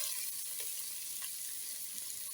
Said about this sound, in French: J'ajoute mes oignons et la tomate.